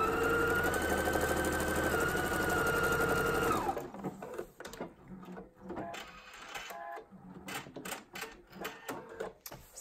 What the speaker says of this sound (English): I'm just going to continue sewing it down to attach the binding.